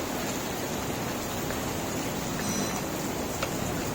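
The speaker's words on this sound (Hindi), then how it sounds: "चाहे बारिश कितनी हो रही, गर्मी फिर भी बहुत हो रही" Heavy rain falls in a steady, dense hiss that fills the whole stretch evenly, loud and continuous with faint scattered drops and no voices.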